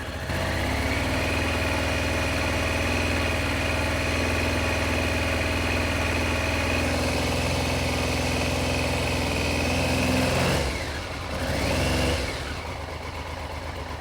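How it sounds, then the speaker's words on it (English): An old Triumph engine idles close by with a steady, even ticking-over drone that holds for most of the run, then dips and briefly picks up again near the end. "It's idling nicely though"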